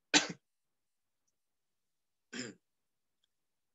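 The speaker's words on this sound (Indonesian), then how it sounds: "Bapak masih batuk." Two or three short, dry coughs or throat-clears from a man with a lingering cough giving a religious lecture, each isolated and separated by near silence, fairly close.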